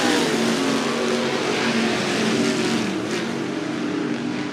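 Limited sprint cars roar into a heat race at Cottage Grove Speedway, a dense, loud wall of racing engines revving hard together and holding high throughout with no break.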